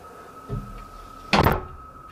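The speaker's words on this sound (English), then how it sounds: "I just command you to shut the door." A door shutting with one loud close thud after a softer knock, nearby in a quiet room over a faint steady hum, no talk.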